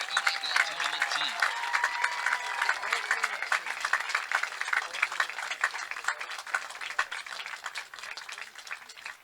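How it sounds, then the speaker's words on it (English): Sustained crowd applause at a men's soccer championship ceremony honoring the ODAC all-tournament team, dense and steady throughout with scattered cheers and voices mixed in. "Let's give one more round of applause for these fine student athletes, your 2025 ODAC All-Tournament team."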